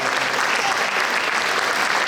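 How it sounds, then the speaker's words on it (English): An audience at a community annual day celebration applauds a lifetime achievement award recipient, steady, dense clapping that stays loud and close throughout. "Please give her a round of applause."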